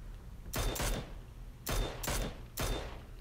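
Mini rifle gunshots in the video game PUBG: five sharp, loud reports in two quick pairs and a single, each with a short echoing tail, no speech.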